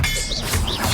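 A disarming Expelliarmus spell is cast in the Hogwarts Legacy video game, a loud, brief magical burst with a shimmering whoosh and two sweeping, chime-like tones over a dense low crackle, lasting about a second.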